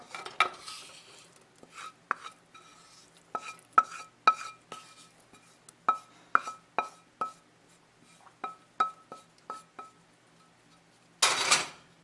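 Veggies and kielbasa for cauliflower soup are stirred in a pot over low-medium heat, giving a run of sharp spoon clinks and scrapes against the pot in an uneven rhythm, close and quiet, with a brief rustling burst at the end.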